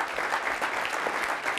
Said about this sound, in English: Why don't you give the Minneapolis Club a round of applause?